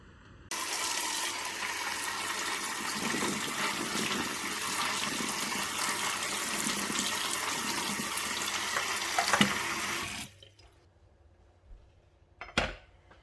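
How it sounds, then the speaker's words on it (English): Small garden-harvested onions rinsed under a steady running tap, a continuous broad splashing wash lasting about ten seconds before the water stops, then a few faint handling knocks. "I'm going to give them a bit of a wash up because they do have a bit of dirt on them"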